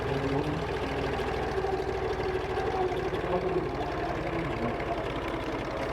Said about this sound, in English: I've just arrived here with my David Brown tractor, with my small tractor